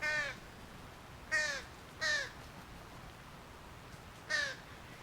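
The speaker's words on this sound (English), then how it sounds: "That's a baby crying for food" A baby crow begs for food with four harsh, raspy caws spaced irregularly, each short and fairly close, against quiet background.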